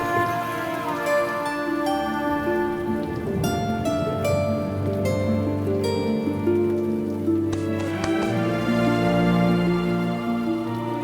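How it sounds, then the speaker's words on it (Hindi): Unseasonal rain patters steadily on surfaces as a constant soft hiss beneath a sustained tonal musical score that plays throughout, with no speech. "बेमौसम की बारिश को भी आज ही होना था।"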